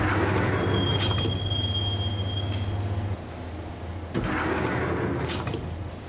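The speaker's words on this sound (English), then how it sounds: "the train doors had already shut behind me, and I was in for the ride" Subway train ride in the video game Max Payne, a loud steady rumble of wheels on track with a low hum, metallic squeals and brief clanks, heard alone without speech.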